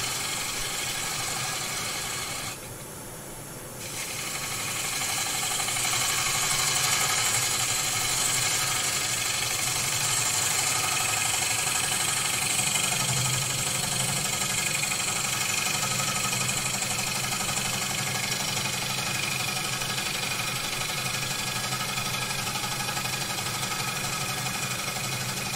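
A wood lathe spins a plate held on a vacuum chuck, giving a steady mechanical hum with a rattling, engine-like drone. The hum dips briefly near the start, then runs constant and fairly loud with no voices.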